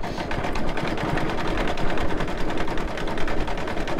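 An embroidery machine stitches a Kreative Kiwi sun design with a loud, close, rapid mechanical chatter of needle strokes that runs continuously and evenly, with no voices.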